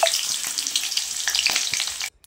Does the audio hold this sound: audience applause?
no